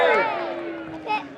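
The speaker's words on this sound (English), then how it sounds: "one cheer for the officials" Crowd at a youth rugby final giving a short cheer for the officials, a brief burst of many voices with a second small swell, loud and close.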